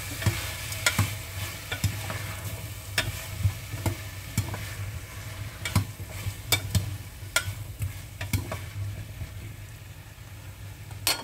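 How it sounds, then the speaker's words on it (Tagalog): A spoon scrapes and stirs thick rice porridge (lugaw) in a pot, repeated irregular knocks and scrapes over a steady low simmer, close and fairly loud. "Haluin lang natin siya."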